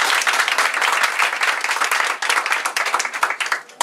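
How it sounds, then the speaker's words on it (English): A room of supporters at a Cory Booker campaign stop in a Newton home gives a woman a hearty round of applause, with loud, continuous clapping for about four seconds. "If we could give her another big round of applause."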